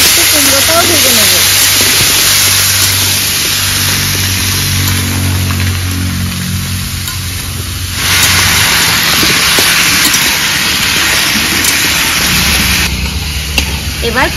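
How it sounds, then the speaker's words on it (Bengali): Pumpkin frying in a pan, giving a loud, steady hiss and sizzle of hot oil that carries on without break from start to end, close up. "এবার আরেকটু কুমড়োটাও ভেজে নেব।"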